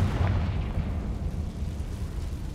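A Confringo spell blast in Hogwarts Legacy, set in a mine, produces a deep, booming explosion with a rumbling low tail that fades over a couple of seconds.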